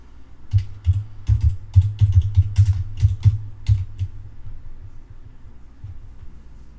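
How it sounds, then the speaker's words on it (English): Fingers type on a computer keyboard close by in quick irregular bursts of clicking keystrokes that slow and thin out toward the end, with no talking. "I actually have to type in each name"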